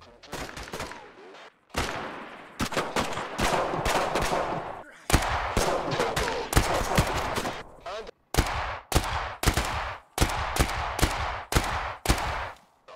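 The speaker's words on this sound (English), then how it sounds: "Some people show up, we shoot them too." Heavy automatic gunfire from the video game Thunder Tier One, loud bursts of rapid shots in repeated volleys with brief pauses between, close and dominant, with some speech mixed in underneath.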